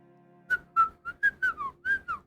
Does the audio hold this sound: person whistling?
yes